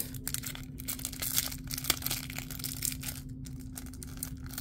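Plastic packaging is slowly peeled and crinkled off a Pokémon card up close, a continuous soft rustling and crackling with small crisp peaks, no talking, over a faint steady hum.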